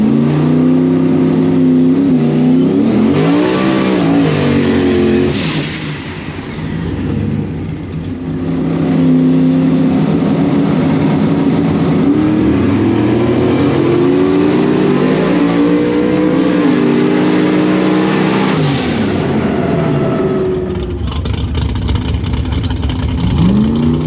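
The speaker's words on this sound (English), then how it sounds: "I got to run that Nova. It's got a big motor in it, a lot of nitrous." A Chevy Nova with a big motor and nitrous runs a no-prep drag strip: a loud, close engine screams through rising gear pulls, dips briefly mid-run, then roars on with more shifts before backing off, with no voices over it.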